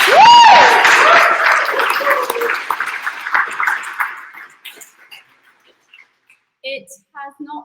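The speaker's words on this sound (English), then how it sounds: "can we just give them a massive round of applause for that?" An audience bursts into loud applause with a whoop for graduates of Le Wagon's London part-time web development coding bootcamp; dense clapping fills the first four seconds, then thins and fades to scattered claps and quiet.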